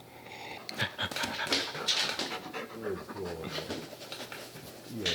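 A dog pants rapidly and steadily nearby, quick rhythmic breaths with faint whimpers mixed in, moderately quiet with a voice briefly audible in the background.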